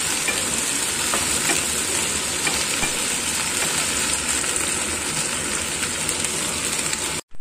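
Okra fries in a pan with a steady, bright sizzle and crackle, continuous and close, with light stirring scrapes throughout before cutting off abruptly at the very end.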